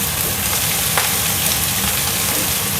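Fish frying in a pan of hot oil, a steady dense sizzle and crackle that fills the whole stretch without pause.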